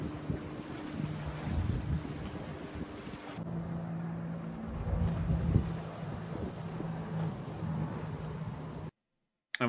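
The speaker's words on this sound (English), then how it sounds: "that thing sounds like just like a jet ski" A jet ski with a big motor running on open water, its engine droning steadily under heavy wind buffeting, shifting in tone midway before cutting off abruptly near the end.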